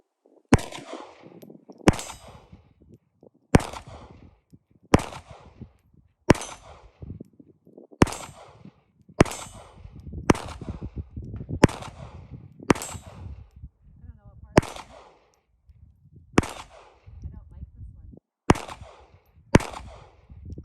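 Sig Sauer P322 pistol fired at a shooting range: a steady string of sharp, loud gunshots at roughly one-second intervals with ringing decays, and people talking in the background between shots.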